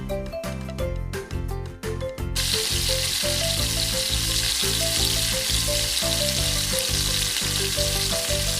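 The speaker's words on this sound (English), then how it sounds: "then we're going to fry them" Breadcrumbed chicken half moon pies fry in oil with a steady, close, even sizzle that takes over after a couple of seconds, with loud rhythmic background music playing throughout.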